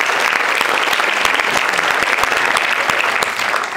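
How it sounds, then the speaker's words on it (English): An audience at a university debate hall applauds its guests, a dense, steady wash of many hands clapping at even loudness throughout, with no voices over it. "if we could have a round of applause for our guests"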